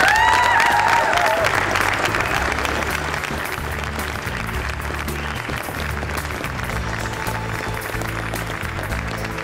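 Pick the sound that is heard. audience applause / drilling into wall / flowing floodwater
audience applause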